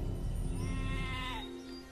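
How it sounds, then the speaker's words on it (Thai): Goats bleat in a short, wavering call from a nearby animal, loud and alone with no talking. "คนเลี้ยงแพะก็ทำหน้าที่ไล่ต้อนแพะกลับบ้าน"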